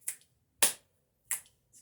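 Three sharp, close finger snaps ring out at uneven intervals against near silence, followed by a fainter fourth snap at the very end.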